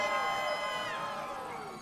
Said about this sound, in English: he's drawing huge applause from the crowd